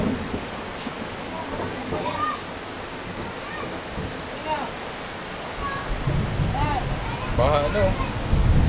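Flood water rushing inside a house, a continuous wash of noise that swells louder near the end, with people talking and calling out over it.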